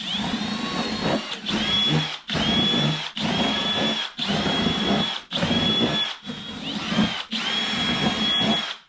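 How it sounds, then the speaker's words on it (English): Eight rapid drill bursts punch holes into a cardboard scrap box in a garage, each loud close whine lasting under a second, separated by short silent gaps in a steady rhythm. "let's pop 8 holes in this box"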